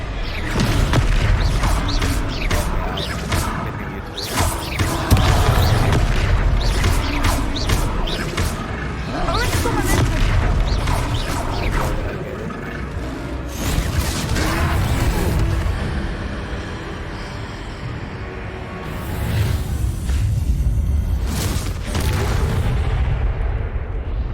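Thudding spell impacts and crashes from a Descendo cast slamming a troll in the Hogwarts Legacy video game, loud repeated booms and heavy crunches over a dense game soundtrack with occasional voices.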